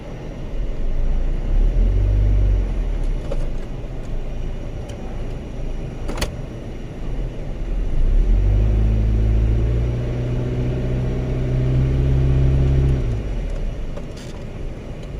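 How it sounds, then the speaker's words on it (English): A 2007 Ford Fusion engine idles with a low rumble, then is revved twice: a brief rise around two seconds and a longer, louder, sustained rev from about eight to thirteen seconds before settling back to idle, close by with no talking. "let's try giving it gas"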